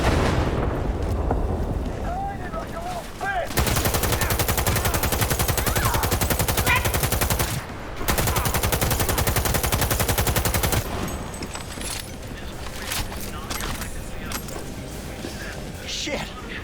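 Rapid automatic gunfire from Cyberpunk 2077 combat, loud and dense in sustained bursts with brief pauses, mixed with game sound effects and occasional voices.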